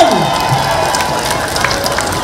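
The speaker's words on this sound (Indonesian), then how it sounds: "Tepuk tangan" A crowd at a Gerindra party anniversary rally in East Jakarta claps and cheers, a dense wash of hands and raised voices filling the whole moment at a steady level.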